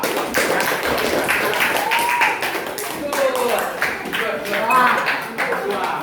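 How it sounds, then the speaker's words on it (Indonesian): Classroom applause for a student group: many hands clapping and tapping in a dense patter for several seconds, mixed with chatter and voices in the room. "silakan berikan aplaus kepada kelompok 2"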